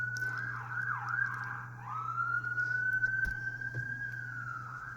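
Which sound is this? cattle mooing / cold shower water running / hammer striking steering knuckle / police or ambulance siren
police or ambulance siren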